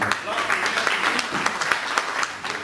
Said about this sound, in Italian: facciamo un applauso a Cellulino